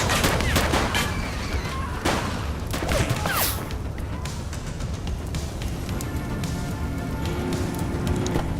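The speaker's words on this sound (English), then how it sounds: "Someone's shooting at us!" Gunfire in the police game The Precinct: rapid volleys of sharp shots, some in dense bursts, crackle continuously over a noisy street background.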